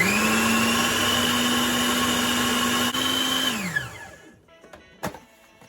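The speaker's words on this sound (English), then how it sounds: "So I'm going to grind this again for maybe another minute" A food processor grinds falafel mixture at steady high speed for several seconds, then winds down and stops, followed by a few light clicks and clatters.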